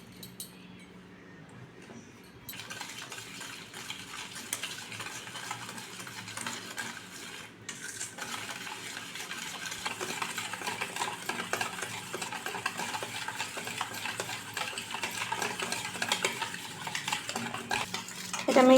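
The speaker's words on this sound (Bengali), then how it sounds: "এটা মেশানো প্রায় হয়ে গেছে" Semolina cake batter with oil and mango pulp stirred in a bowl, a steady scraping and clinking of a spoon against the sides, continuous and close, growing busier toward the end.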